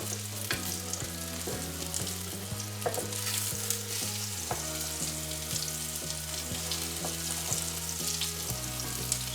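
Ruffed grouse pieces sizzle steadily in a hot pan, a continuous crackling hiss at moderate level, with a low musical hum underneath.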